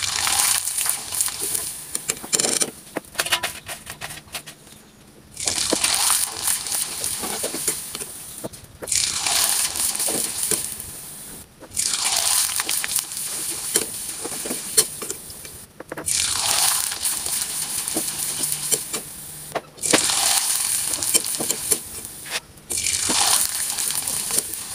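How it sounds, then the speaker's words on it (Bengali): Rice flour pitha cakes deep-frying in hot oil in a wok, a loud hissing sizzle that surges in bursts every few seconds as cakes go in or are turned, then settles to a steady bubbling. "হালকা আছে পিঠাগুলোকে ভেজে নিতে হবে"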